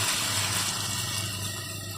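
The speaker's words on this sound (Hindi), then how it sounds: "अब इसमें मैं पानी शामिल कर देती हूँ।" Water poured into a pot of egg korma masala after the eggs were fried in the spice paste, a steady splashing pour heard close and alone.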